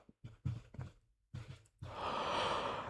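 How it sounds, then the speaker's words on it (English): A person yawns during a live football watchalong stream, with a few short breathy gasps and sighs before a long, drawn-out airy exhale, fairly close and quiet with no talk. "There's another yawn."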